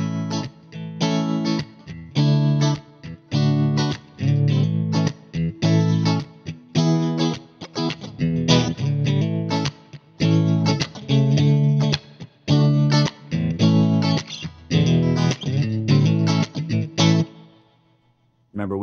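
Electric guitar through a 1968 Fender Princeton Reverb tube amp, middle and back pickups combined for a chorusy tone, playing rhythmic strummed chords and phrases with short pauses, loud and close, ringing out at the end.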